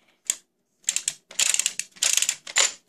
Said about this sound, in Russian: барабан прокручивается щелчками.